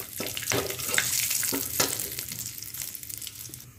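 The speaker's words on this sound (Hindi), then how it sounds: "जीरा हमारा भून गया है" Cumin, cinnamon, cloves and green cardamom sizzle and crackle in hot oil, a steady frying hiss with sharp pops and occasional stirring scrapes, close and fairly loud.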